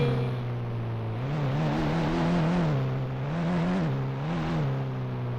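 Car engine in the Indian Bike Driving 3D mobile game revving in steady waves, its pitch rising and falling several times while the loud, continuous drone plays alone.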